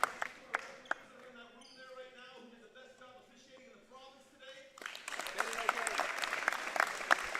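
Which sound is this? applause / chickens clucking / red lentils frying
applause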